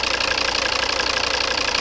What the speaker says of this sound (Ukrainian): П'ятициліндровий, знаменитий двигун.